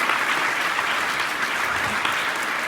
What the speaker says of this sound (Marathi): तुम्ही फक्त योग्य ठिकाणी टाळ्या वाजवा